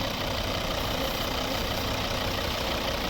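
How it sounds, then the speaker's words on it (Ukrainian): Steady, loud idle of a 2011 Volvo S40 two-litre five-cylinder D3 diesel engine with a continuous low rumble and broadband hum, unchanging throughout with no voices. "Ось двохлітровий знаменитий п'ятициліндровий двигун."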